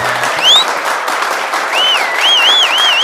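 An Odia reality show audience applauds contestants walking on stage at a semi-final, continuous clapping under bright sweeping whistle-like electronic tones and a short low musical sting.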